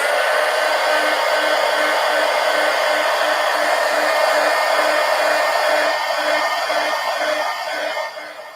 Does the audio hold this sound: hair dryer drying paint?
yes